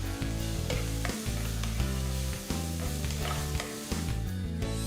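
Onions and garlic sautéing in oil with a loud, continuous sizzle, punctuated by the clatter of a spoon stirring the pan, with steady music in the background.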